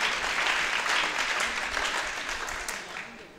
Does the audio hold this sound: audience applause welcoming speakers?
yes